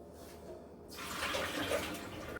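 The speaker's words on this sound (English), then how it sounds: "Okay, so we run the water" Quiet hum, then water suddenly begins running steadily through an Enagic LeveLuk water filter at close range, a continuous gushing flow.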